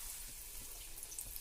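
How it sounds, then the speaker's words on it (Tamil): Raw banana bajji, battered slices of plantain, fry in hot oil with a steady, soft sizzling hiss that holds evenly throughout. "வாழைக்காவை மாவில் டிப் பண்ணி எண்ணெயில் போட்டு பொரிச்சு எடுத்துக்கலாங்க."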